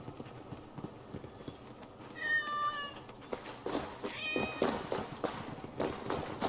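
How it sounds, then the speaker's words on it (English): Several cats meow in Assassin's Creed Valhalla, short high calls at intervals over steady game ambience with faint hoof-like thuds. "Never imagined I'd spend my afterlife leading a herd of cats."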